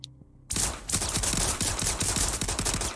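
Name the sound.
gunfire volley in a video game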